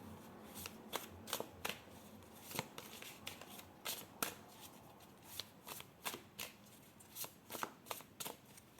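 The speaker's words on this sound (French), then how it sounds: "Je prends une autre carte." Tarot cards being handled and drawn, with a series of quick, crisp card flicks and slaps in an irregular rhythm, close and fairly quiet with no talking.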